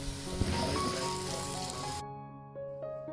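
Cut potatoes going into garlic-ginger paste frying on medium flame for aloo gosht salan, a dense sizzle that cuts off sharply partway through, leaving only faint background tones, no talk.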